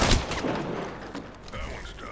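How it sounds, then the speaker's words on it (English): Gunfire in the Apex Legends video game: a loud burst of shots at the start, then more scattered shooting and mechanical clatter through the rest, with no talk over it. "Look out! Taking shots."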